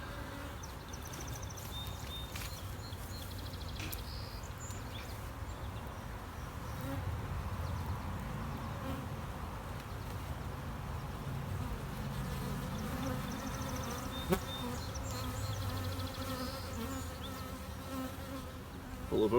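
Honeybees in an overcrowded observation hive give a dense, continuous buzz that holds steady throughout and swells slightly partway through, heard up close with no one speaking.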